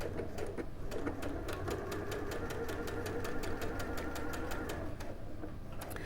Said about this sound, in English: we're just going to stitch round, nice small seam all the way around